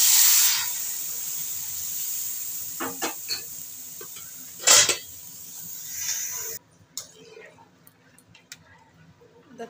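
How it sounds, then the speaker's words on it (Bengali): Hot water goes into a pan of fried taro. A loud hissing rush of steam fades over several seconds, with a few scrapes and knocks, then leaves a quieter stretch with light clatter. "কচুটা ভাজা ভাজা হয়ে গেছে, আমি এবার গরম জলটা দিয়ে দিচ্ছি।"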